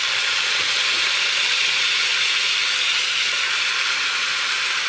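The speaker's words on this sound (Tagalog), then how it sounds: "ito na nga po at aking gigisa na itong ating maskara" Pork mask, maskara, sautéing in a hot pan for sempling kare-kare, a loud, steady, close sizzle and hiss with no break, and no voices over it.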